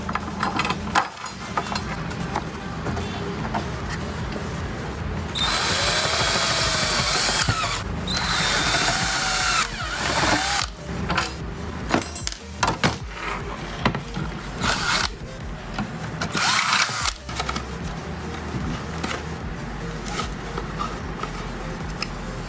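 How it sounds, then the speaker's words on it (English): A power drill whirs in repeated bursts, loud and close, with short pauses and clanks between runs as bolts are driven to install an iPad dash mount. "Just hold it in place to drill the last 2 bolts."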